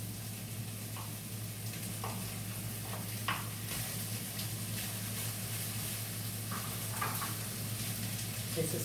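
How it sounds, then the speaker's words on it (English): Corn fries in a pan for a spinach vegetable bowl, a steady soft sizzle running throughout with a few faint scraping stirs and light clicks of the utensil against the pan, no voices. "Now, I'm going to add corn to the mix."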